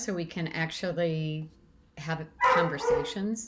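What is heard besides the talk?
dog barking in the background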